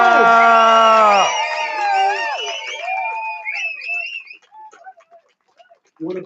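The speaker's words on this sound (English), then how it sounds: "As big a round of applause as we can get for Barry possible right now." A crowd cheering at an outdoor protest rally, with loud drawn-out whoops and shouts from many voices that fade to scattered calls, followed by a brief burst of noise at the end.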